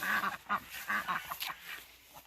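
Farm ducks quacking in a loose run of short nasal calls, close and fairly loud over a rough outdoor background, with no talk.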